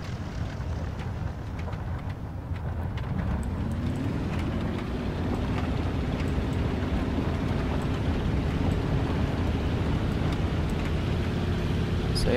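A jet aircraft engine spooling up on a carrier deck in a video game, a steady loud roar with a rising tone that settles into a sustained whine, with no voices.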